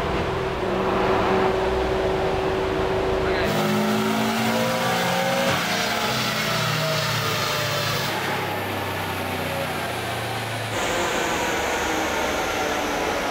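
Subaru Forester revving hard on a dyno, engine screaming steadily and bouncing off the rev limiter, loud and close with a continuous high-pitched drone and shifting harmonics, no talk.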